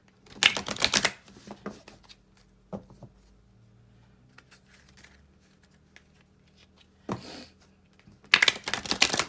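Archangel oracle cards are shuffled and drawn from a deck in rapid riffling bursts, a crisp flurry at the start, a single snap, then more fluttering shuffles near the end, close and alone.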